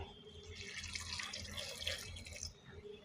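Steady stream of water running and splashing into a cooker pot of dal and spinach, a continuous pouring sound lasting a few seconds, fairly quiet and close.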